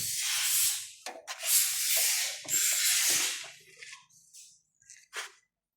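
A screw is fitted on a car window regulator with a series of close, bright ratcheting and scraping strokes in irregular bursts that fade toward the end.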